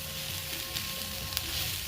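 Onions sizzle steadily in a hot pan as they are stirred, a dense continuous crackle with a couple of faint scraping knocks, close and alone with no voices.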